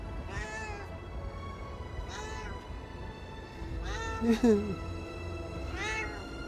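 Repeated cat meows in the video game Starfield: Shattered Space, four or five plaintive calls spaced about a second and a half apart, close and clear over a low steady hum, one sharper squeaky note in the middle.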